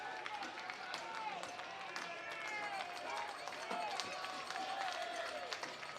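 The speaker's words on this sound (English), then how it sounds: "This crowd starting to come alive" A crowd at an FCBL summer collegiate baseball championship game, Vermont at Nashua, New Hampshire, makes a steady roar of cheering and murmur that swells and holds throughout, under continuous announcer-style talking.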